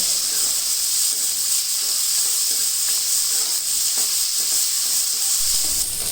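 Onion, green chili, garlic and ginger sizzle in a hot pan, a continuous bright hiss of frying with faint stirring, steady and close with no voices.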